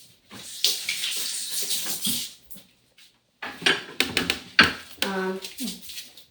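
Hands are washed under a running kitchen tap, with close splashing water in uneven bursts broken by short pauses and a faint clink, while someone talks.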